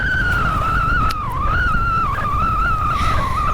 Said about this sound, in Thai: เสียงนี่น่าจะเป็น เสียงล้อ ที่ ยังไม่ได้ลงน้ำมันนะฮะ